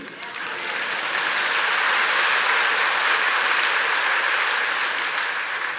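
Church congregation applauding during a sermon, a steady dense wash of clapping that swells in at the start and holds loud and even for several seconds.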